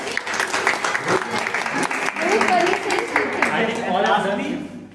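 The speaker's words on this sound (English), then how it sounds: "Can we clap for everyone?" An audience at a teacher training session claps together, a loud, dense burst of many hands with some uneven individual claps standing out and faint voices mixed in.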